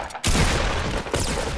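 Green shotgun blasts in a Fortnite battle royale match: a sharp, loud burst of gunfire cuts in after a brief quiet start, followed by a second blast near the end, with no talking.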